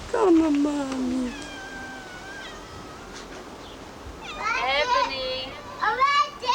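Domestic cat meowing several times in a home, short rising and falling calls near the microphone, with children's voices and other people talking around them.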